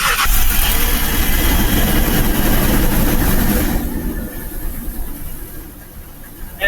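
A 30-year-old Holiday Rambler RV engine idling after sitting two weeks, a loud steady rumble close by that settles slightly quieter partway through, with no talk.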